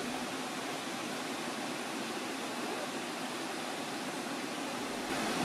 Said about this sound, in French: L'autre merveille naturelle le long des sentiers, les rivières.